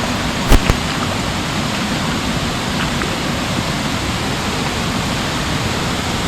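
Rainwater runs down across newly bought land at Panshet, a steady, loud, unbroken rushing wash with a couple of brief knocks near the start.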